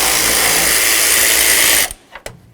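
A power ratchet runs loud and close for almost two seconds, removing the fan shroud mounting bolts on a Ford F-150, then stops abruptly, leaving a couple of short metallic clicks.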